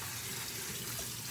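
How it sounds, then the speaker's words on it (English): Cool tap water runs steadily over boiled green beans in a colander, a continuous close splashing rush that holds even and unbroken throughout, with no voices. "I just rinse them till the water runs cool."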